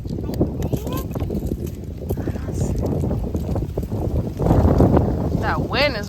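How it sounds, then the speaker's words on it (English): Strong outdoor wind buffets the microphone with a steady low rumble throughout, strengthening toward the end, while a child and an adult talk nearby during a nature outing. "That wind is blowing strong."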